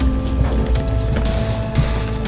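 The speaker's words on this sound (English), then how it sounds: "Oh, there it goes, just pouring out of the ceiling." Water pouring through the ceiling of an RV from a roof leak after a roof replacement: a steady splashing, rushing stream close by, continuous and fairly loud with no talk over it.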